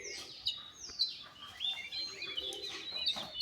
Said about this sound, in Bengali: তো এই যে ডাক দিচ্ছে বা ডাক দেওয়ার একটা প্রবণতা আছে